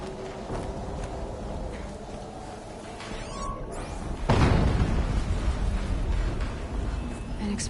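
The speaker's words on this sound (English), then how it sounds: "An explosion." An explosion in Horizon Zero Dawn Remastered erupts suddenly partway through a low ambient rumble, then continues as a sustained broad roar.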